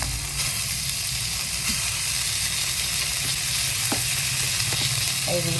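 Pork chop seasoned with salt and pepper frying in a pan, a steady close sizzle throughout with a few small clinks and scrapes near the end.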